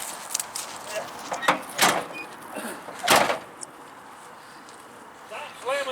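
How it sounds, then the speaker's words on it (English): A door on a dirt-track race car being slammed in a garage, with a few loud thuds and clunks among scattered rattles and faint voices. "Stop slamming the door."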